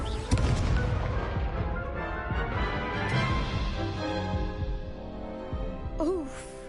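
Confringo blasting spell explosions in the Hogwarts Legacy video game, with dense booming game combat and overlapping effects, ending in a short shimmering magical whoosh.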